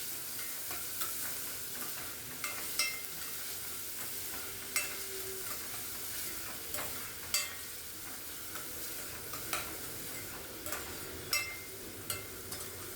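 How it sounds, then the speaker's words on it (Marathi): Finely chopped onions fry in hot oil, a steady low sizzle with soft, regularly spaced scrapes of stirring, close but quiet and with no voices. "हे 2 कांदे जे बारीक चिरून घेतलेत आपण ते घालूयात या तेलात"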